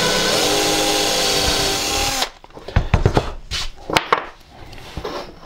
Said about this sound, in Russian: Берем кусочек этого материала, сверлим отверстие диаметром 3 мм.